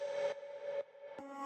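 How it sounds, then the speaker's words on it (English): Short reversed vocal samples used in a future house track, a few brief swelling tones that cut off abruptly, faint and alone. "you just want to find little like vocal sounds and then you reverse them"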